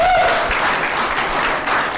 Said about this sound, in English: just give them all a round of applause